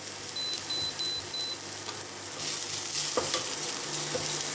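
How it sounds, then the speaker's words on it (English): Mustard seeds heating in a little ghee in a pan give a steady close sizzle with occasional faint pops and a brief stirring scrape, while a short series of high electronic beeps sounds early on. "I can smell the mustard seeds. They are popping a little bit"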